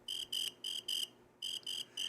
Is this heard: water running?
no